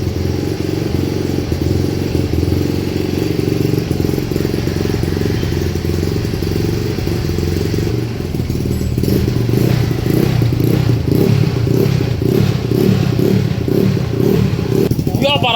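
Yamaha Mio scooter engine with standard carburettor and freshly dialled camshaft timing runs steadily up close, a rough busy idle with clattering mechanical noise that grows more rhythmic partway through, with a brief voice near the end.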